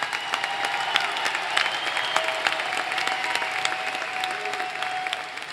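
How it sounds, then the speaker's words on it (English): Sustained applause from a large commencement audience honoring graduates, dense steady clapping with crowd murmur throughout, fairly loud and continuous. "Everyone, a round of applause for all of these graduates."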